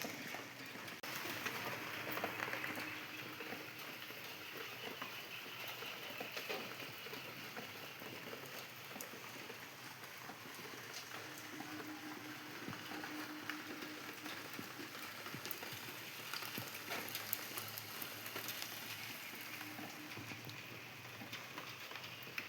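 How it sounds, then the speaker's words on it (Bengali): Steady rain patters and hisses on surfaces for the whole stretch, a dense even wash of sound with faint distant background noises underneath. "বাইরে এত বৃষ্টি হচ্ছে যে আজকে সকালে হয়তো কাজটাই হবে না"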